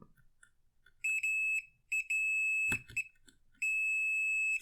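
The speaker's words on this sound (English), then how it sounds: "You heard it beep." An ANENG SZ-301 digital multimeter's continuity tester gives a series of loud, high-pitched electronic beeps, some short and some held for about a second, separated by brief silences.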